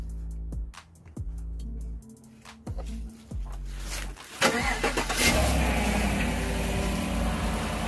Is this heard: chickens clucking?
no